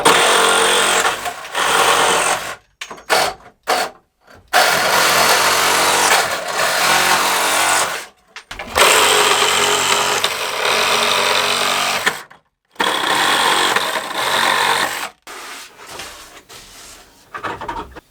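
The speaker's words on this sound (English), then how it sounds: "I will cut now that nails" A power tool cuts through nails left in the pallet wood walls of a small cabin workshop. It comes in loud, harsh, sustained grinding bursts broken by short pauses, with no talking.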